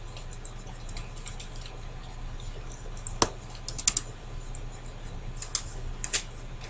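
Computer keyboard keys clicked while entering a spreadsheet formula, a few scattered light taps and one sharper keystroke over a steady low hum, close and fairly quiet.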